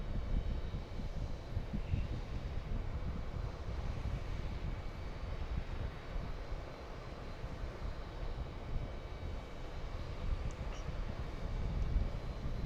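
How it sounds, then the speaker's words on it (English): An Embraer Legacy 450 business jet approaching to land at Harrisburg airport gives a faint, distant, continuous low engine rumble that swells slightly toward the end, with no talking. "we have an Embraer Legacy 450 that was cleared to land. It's out west of the airport."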